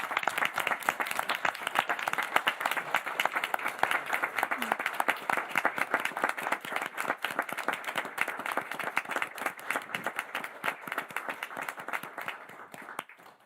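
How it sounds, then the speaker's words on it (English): Dense, vigorous applause fills a Morganton city council chamber in honor of police officers, many hands clapping together at a steady level before tapering off at the very end. "I think it's appropriate to give them a round of applause for how they did that"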